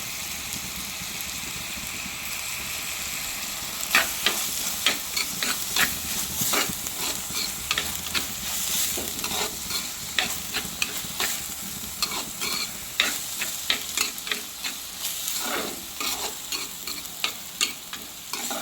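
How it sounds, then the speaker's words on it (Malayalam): Chopped onions with curry leaves and a pinch of salt sizzle steadily in hot oil as a spoon stirs and scrapes the pan in irregular strokes, close and steady with no speech. "കറിവേപ്പിലോട് ഇട്ട് കൊടുത്ത് നന്നായിട്ട് ഇളക്കി കൊടുക്കാം. ജസ്റ്റ് ഒന്ന് വഴണ്ട് വരട്ടെ."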